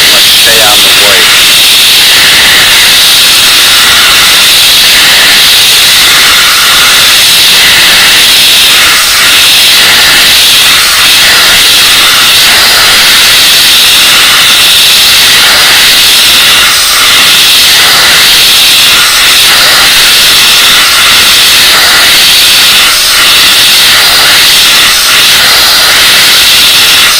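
An airbrush sprays in a steady, loud, continuous hiss while warming up during a vintage 1970s Natural Ike doll restoration, with a voice talking over it.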